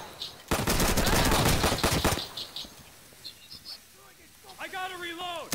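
Gunfire in a shooting video game, one loud close burst of rapid automatic shots, then scattered fainter shots and game effects while a voice speaks briefly.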